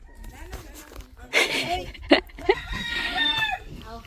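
A rooster crows outdoors at a weekend gathering in Tabuelan, partly overlapped by people talking, with a few louder bursts that may be clucks or other fowl calls.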